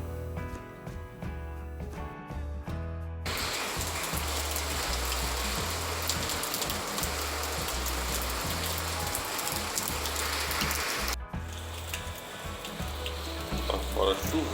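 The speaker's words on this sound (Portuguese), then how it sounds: "Tá fora chovendo." Steady hiss of rain falling outside beside a flat concrete roof slab, continuous and fairly loud, with a brief gap partway through and a low rhythmic thumping underneath.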